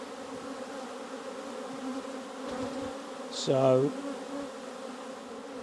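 Honey bees buzz around an open beehive in a steady, close hum that runs throughout, with one sharper, louder whine passing briefly near the middle and a single word spoken.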